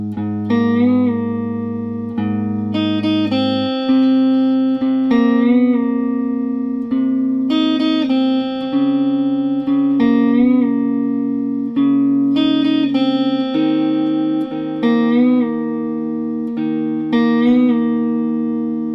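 An electric guitar plays the main riff of a song, with a distorted, effects-laden tone, chords and bent notes cycling steadily for the whole stretch with no talking.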